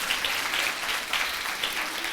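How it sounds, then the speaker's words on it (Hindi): A church congregation at a Hindi Sunday service claps hands in a steady, pulsing rhythm, dense and continuous from many people in the room. "Come on, if you want to clap your hands and clap your"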